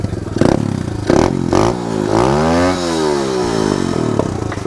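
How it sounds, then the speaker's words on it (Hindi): A dirt bike engine revs hard through its exhaust, climbing and dropping in pitch several times with sharp throttle blips, loud and close. "मैं आपको एक बार एग्जॉस्ट नोट इसका सुनाता हूँ भाई।"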